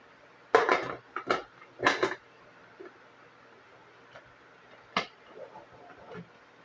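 A metal lid is fitted onto a cooking pot in a home kitchen, making a few sharp clanks and rattles near the start, a couple more around midway, then a faint clink and quiet handling.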